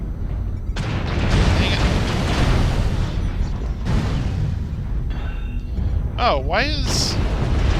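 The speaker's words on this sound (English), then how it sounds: "Whoa, whoa, artillery strike." Artillery strike explosions in the MechWarrior Online game: heavy, rumbling booms swelling and fading in waves, with sharp mechanical whines, while someone talks over them.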